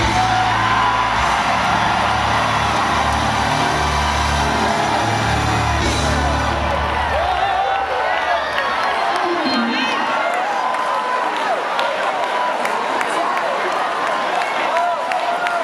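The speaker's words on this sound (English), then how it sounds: "Somebody scream." A church congregation at a crowded night service screams, whoops and cheers loudly and without a break, starting over a low music bed that drops away partway through and leaves the massed yelling and clapping on its own.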